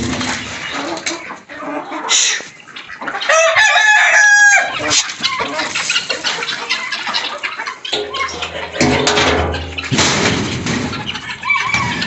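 Chickens on a small farm, including several broody hens, cluck loudly and repeatedly close by, with a rooster crowing in between; no one speaks.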